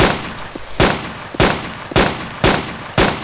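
Gunshots ring out in the survival video game DayZ, six loud, sharp reports spaced roughly half a second apart in a steady rhythm, each with a short decaying tail, no talking over them.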